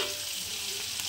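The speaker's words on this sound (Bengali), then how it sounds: "একসঙ্গে একটু আলু দিয়ে কাঁকরোল মানে একটু ভেজে নিলাম, এই ভাজা।" Spiny gourd and potato fry together in a pan, giving a steady, dense sizzle that stays even and close throughout, with no voices.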